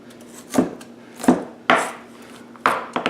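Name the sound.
thick yellow onion slices put into a dish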